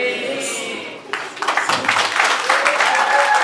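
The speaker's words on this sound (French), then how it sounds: "Encore une fois, des applaudissements." Audience applause at a charity trophy ceremony for radio ambassadors rises after a brief stretch of talk, a dense clapping texture building and holding steady at moderate loudness.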